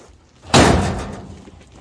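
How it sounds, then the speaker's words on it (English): A steel door on a rat rod Chevy with a bearclaw latch shuts once in a single loud, close slam, followed by a short fading ring in a quiet shop. "door closes"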